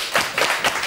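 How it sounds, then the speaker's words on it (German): A live audience at a Swiss stand-up comedy show claps for a former football player. There is a short burst of dense, close clapping with a few stronger accents and no speech. "Ein Applaus für den Werner Gubser"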